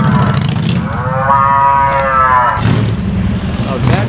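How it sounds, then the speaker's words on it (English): A low, drawn-out small-car horn blast with a wavering, moo-like tone rises over steady traffic rumble near the beach in Newport Beach, California, lasting about a second and a half. "Came from that little car back there. I was wondering. Sounds like a cow mooing."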